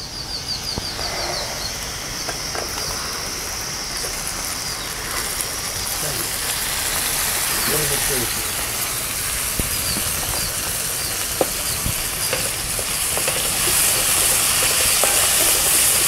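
Tomatoes sizzle in hot oil with a continuous loud hiss and occasional small pops.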